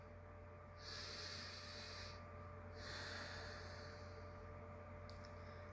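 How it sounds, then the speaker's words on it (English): Deep breaths taken during morning affirmations: two long, close, airy breaths, one after the other, with a faint click at the end over a low steady hum. "Take a breath."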